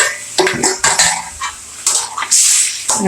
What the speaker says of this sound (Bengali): কষানো হয়ে গেছে দিয়ে দিলাম পরিমাণ মতো পানি